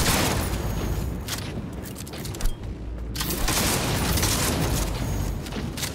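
Grenade explosions in Cyberpunk 2077 inside a loud, dense wall of gunfire and blasts, a near-continuous roar with a brief drop midway before the barrage resumes.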